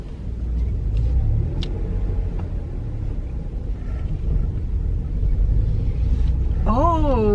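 A newly bought manual car pulling away and gaining speed, driven by a learner: a steady low engine rumble that swells gradually, with a rising whine near the end.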